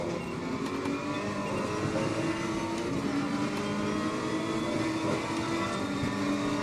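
GT3 race cars, including an Audi and a McLaren, racing in Assetto Corsa Competizione, with a loud steady engine roar that holds throughout and shifting revs layered over it.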